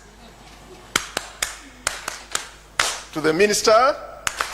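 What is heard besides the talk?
organized rhythmic clapping by audience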